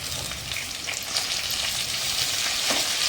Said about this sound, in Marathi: बटाटाही आपण थोडासा परतवून घेऊया तेलामध्ये परत आपण टोमॅटो घालूया